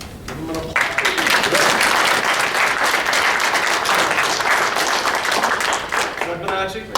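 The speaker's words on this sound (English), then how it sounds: "Give him an applause." A school board audience at a district organizational meeting applauds a board member: a loud, dense round of clapping that swells quickly and holds steady for several seconds, with a voice speaking briefly at the start and as it fades.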